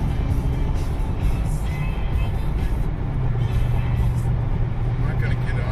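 Engine of a 2020 Dodge Charger Scatpack accelerating in traffic among trucks, a steady, loud low rumble building from inside the car with road noise throughout.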